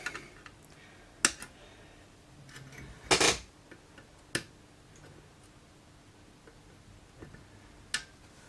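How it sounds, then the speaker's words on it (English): Cutters snip the legs of components on a Spectrum 48K circuit board during a recap, giving sharp isolated clicks spaced a second or more apart, one double snap in the middle, quiet between. "Just snip the legs."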